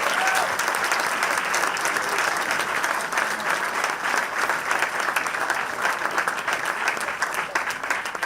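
Steady applause fills a hall at an honorary doctorate ceremony, a dense continuous clapping from a crowd that holds at an even level throughout.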